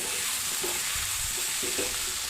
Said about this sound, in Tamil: 1 கப்பு தேங்காய் பூவை ஆட் பண்ணிக்கலாம். நல்லா வதக்கணும்.